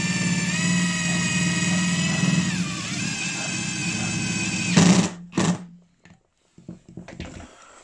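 A Parkside PDSSAP 20 Li cordless impact drill drives a large screw, its close, steady motor whine sagging slightly in pitch before a few short bursts and a stop.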